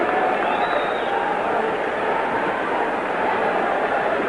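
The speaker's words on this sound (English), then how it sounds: "Now you begin to hear the crowd." A large crowd at the Muhammad Ali versus Jimmy Young boxing fight, a steady distant roar of murmuring spectators that stays even throughout, with a voice speaking over it.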